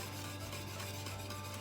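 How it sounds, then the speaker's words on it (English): A whisk stirs fruit pectin into a pot of homemade grapefruit jelly, giving a steady, close scraping and rubbing that runs without a break and with no voices over it. "I'm just gonna whisk that in together so that it mixes really well"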